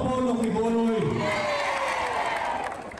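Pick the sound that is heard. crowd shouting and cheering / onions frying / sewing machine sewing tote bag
crowd shouting and cheering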